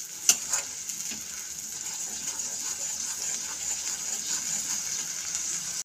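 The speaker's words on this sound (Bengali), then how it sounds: "খুব ভালোভাবে কষিয়ে নিতে হবে, কাঁচা মশলার গন্ধ চলে যাওয়া অবধি।" Spice masala frying in oil for Bengali chicken kosha, a continuous bright sizzle with a few sharp spatula knocks near the start, steady and close with no talking.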